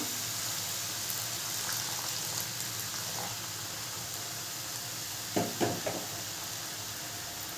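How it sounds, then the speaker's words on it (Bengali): Warm milk poured slowly into carrot halwa cooking in a pan, a steady broad hiss and simmer with a few soft knocks of a utensil near the end. "দুধটা আমরা গরম করে রেখেছি আগের থেকে, আস্তে আস্তে করে দেবো"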